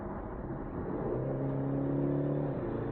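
A BMW 430i engine accelerates from inside the car, the revs climbing steadily in a smooth rising drone that grows slightly louder over a few seconds, with no talking.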